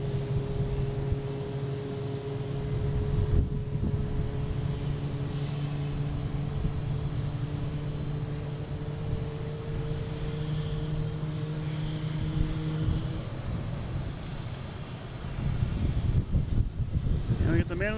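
An Embraer E175 airliner at Boston Logan airport, a steady droning jet engine hum with tonal whine, heard from a distance over wind, with voices talking at times.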